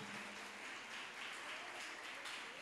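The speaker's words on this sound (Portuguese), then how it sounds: "Você pode aplaudir Jesus por isso?" A congregation at a church service breaks into steady applause, a dense, even wash of clapping that holds at a constant level for a few seconds with no voices on top.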